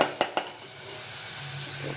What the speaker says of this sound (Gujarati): તો હવે પહેલાં આ ડુંગળી નાખી અને હલાવી નાખી